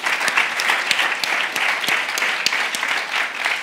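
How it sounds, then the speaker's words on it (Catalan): Conference audience in Barcelona breaks into warm applause for a speaker, a steady crowd of clapping hands with a few sharper individual claps popping out, no talking over it. "Un aplaudiment per la Mar."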